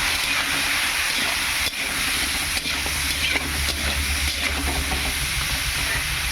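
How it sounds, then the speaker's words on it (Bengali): Pointed gourd (potol) with salt and turmeric frying in a pan, a continuous loud hiss and sizzle with a few faint stirring knocks, no talk. "এবার আমি এটা ভাজতে থাকি"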